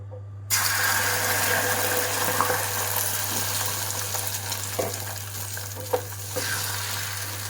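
Beaten egg for an omelette hits hot oil in a pan and bursts into a loud, steady sizzle after half a second of silence, with a low hum and occasional stirring clicks throughout.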